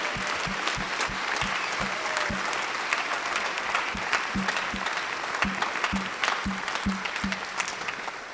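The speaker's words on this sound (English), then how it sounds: "Let's take a moment to give our lower schoolers a big round of applause for their performance" Audience at a school holiday concert applauds the lower school students' performance with loud, sustained clapping from a large crowd. Steady low thumps recur beneath the applause.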